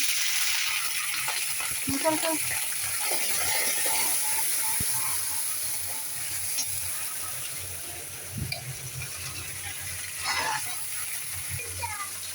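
A splash of water hits onions and garlic frying in oil in a pan, raising a steady steaming hiss with a few soft clinks of a utensil that fade toward the end.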